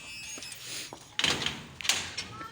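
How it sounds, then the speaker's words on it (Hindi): A house door being closed, a couple of sliding, scraping thuds in quick succession after some quiet shuffling, moderately loud and near. "चले मैं दरवाज़ा बंद करें।"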